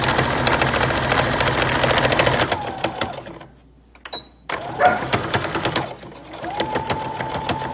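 A sewing machine stitches a cloth face mask, running in steady bursts of rapid close mechanical whirring, pausing briefly in the middle and then resuming as the seam is reversed to secure the stitch.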